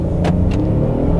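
A Kia Telluride's non-turbo 3.8-liter V6 accelerates hard, a steady, close, loud engine roar with a couple of brief higher surges over the low rumble.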